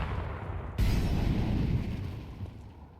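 Grenade blast in a Counter-Strike match, arriving as a sudden loud boom that rolls into a low rumbling tail and fades over a couple of seconds.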